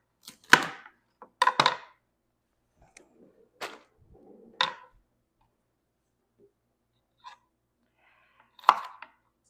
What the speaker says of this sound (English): So I'm gonna start by cutting up the broccoli and getting it in the oven.